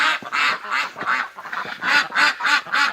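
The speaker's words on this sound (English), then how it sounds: "Man, these ducks are loud" Female ducks in a noisy winter yard quack in a loud, nearby, rapid chorus of overlapping harsh calls, packed with barely a pause.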